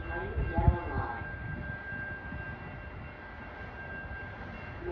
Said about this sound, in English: North train number 2607 to Boston Lake is now arriving.